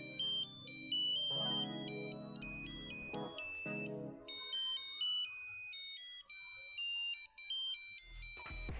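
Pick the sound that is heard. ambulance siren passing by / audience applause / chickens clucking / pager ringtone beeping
pager ringtone beeping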